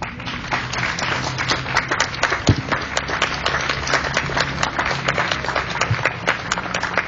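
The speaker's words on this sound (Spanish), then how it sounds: "Le damos un aplauso al Señor." A church congregation claps together during a Spanish-language sermon, a dense steady patter of many hands sustained for several seconds without a break.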